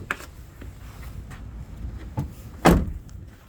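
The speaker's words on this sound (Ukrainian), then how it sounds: "Пневматичні двері." Pneumatic door on a Mercedes 519 Bluetec bus, a single sharp hiss-and-thump near the end after a few quieter clicks, close by with no talking.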